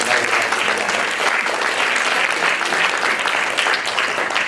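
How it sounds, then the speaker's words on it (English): A showcase audience applauds dancers and performers at a spring Latin folk festival, a full, continuous burst of clapping from many people, fairly loud and steady for several seconds. "Let's give them a round of applause."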